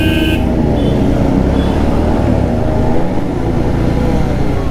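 Motorbikes rev their engines during a group ride through Bhagalpur city, including a JAWA 42, with a loud, continuous, rumbling engine drone and rising throttle surges close by.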